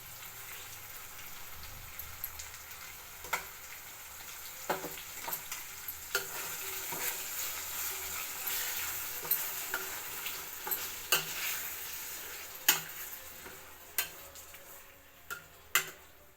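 Spice paste fries in a little oil with a steady soft sizzle, while a spoon stirs and scrapes the pan in sharp intermittent clicks and taps, close and fairly quiet, with no talking.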